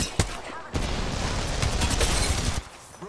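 Rapid gunfire in Apex Legends, a sharp shot followed by a loud sustained burst of automatic fire up close, with speech faintly mixed in.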